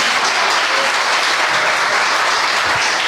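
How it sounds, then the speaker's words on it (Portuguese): A church congregation bursts into sustained, loud applause during a sermon. The clapping is steady and dense throughout and has no speech over it. "Aplauda esse Rei da Glória."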